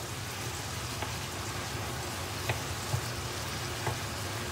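Supermarket mince frying and braising in a pan, its watery juices giving a steady, even hiss like light rain, with a few soft pops and clicks and no talking.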